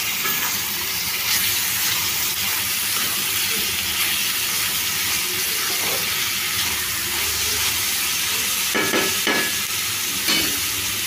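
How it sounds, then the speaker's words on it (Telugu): Thinly sliced tomatoes fry in a pan for a dried shrimp tomato curry, giving a steady close sizzle and hiss with occasional stirring scrapes and clinks. "సన్నగా కట్ చేసిన ఒక 3 టమాటాలు అయితే వేసుకుంటున్నాను."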